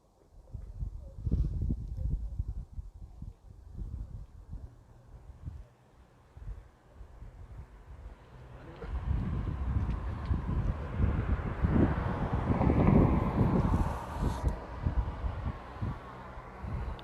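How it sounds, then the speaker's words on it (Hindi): Cold wind blows outdoors in a town as a strong, continuous rumble of gusts buffets the microphone and swells louder in the second half, with no voices heard. "ठंडी हवा चल रही है"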